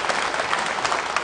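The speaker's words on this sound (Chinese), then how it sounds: "非常感谢您热烈的掌声" A live crosstalk comedy audience breaks into brief, dense applause. The clapping is steady and close, filling the room.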